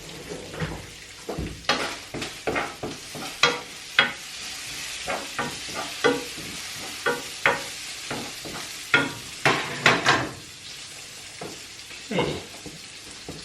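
Bacon frying in a pan, a constant crackling sizzle broken by repeated sharp clatters of a utensil stirring and scraping, close and fairly loud; a voice speaks once briefly.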